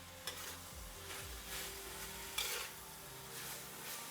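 A spoon stirring food around a pan while cooking couscous rice with chicken gravy makes quiet scraping strokes over a faint sizzle, with a couple of small knocks against the pan.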